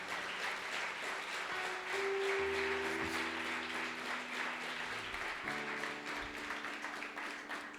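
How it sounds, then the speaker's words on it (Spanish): A church congregation applauds, producing a steady wash of clapping at a moderate distance that lasts the whole time, with sustained organ or keyboard tones beneath it. "Dele ese aplauso al Señor"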